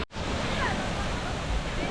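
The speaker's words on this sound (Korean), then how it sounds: "여기는 레드락 폭포입니다." A constant broadband roar of Red Rock Falls in Dumaguete, Philippines, fills the clip, loud and steady without pause.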